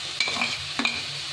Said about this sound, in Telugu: ఇప్పుడు మష్రూమ్ వేస్తాను ముందుగా